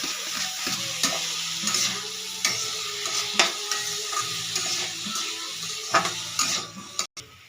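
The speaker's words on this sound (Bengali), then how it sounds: "এটাকে ভালো করে মিশিয়ে নিয়ে এতে দিয়ে দিচ্ছি ভিজিয়ে রাখা মুসুর ডাল" Fried potatoes with tomato, chopped ginger, garlic, green chili and soaked red lentils being stirred in a pan: a continuous sizzle with repeated scraping spoon strokes and clinks, close and moderately loud, no talking.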